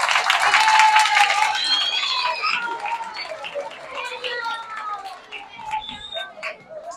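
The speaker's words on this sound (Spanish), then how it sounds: "Un aplauso para ellos," An audience claps for students at a school awards ceremony, a burst of applause that thins into scattered claps with children's voices and chatter mixed in.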